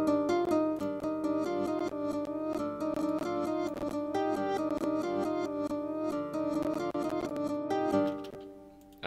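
An FL Studio trap beat plays through a Gross Beat half-reverse effect, steady melodic chords and clicking percussion running at moderate volume before dropping away at the end, with no voices.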